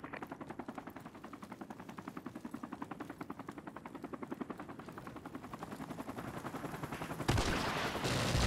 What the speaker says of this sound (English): Chopper on the way.